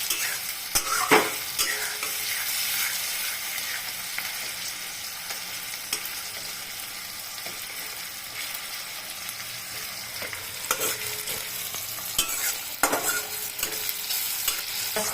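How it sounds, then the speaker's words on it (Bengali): Onions sizzle and crackle in hot oil while a spatula scrapes and stirs the pan in repeated strokes, close up and without talk. "আমি এখন এই যে খুন্তি দিয়ে কেটে কেটে দিচ্ছি। পেঁয়াজটাকে একটু লাল করেই ভাজতে হবে।"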